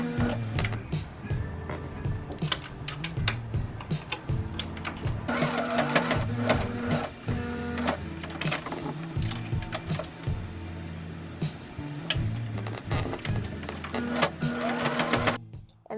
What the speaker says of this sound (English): you're going to sew the ribbing to the shirt